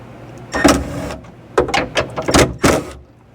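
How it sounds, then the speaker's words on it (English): A Bricklin SV1 car door clunks and rattles against its loosened hinge in a few sharp metallic knocks, close by, with a heavier drop near the end. "if I loosen it,"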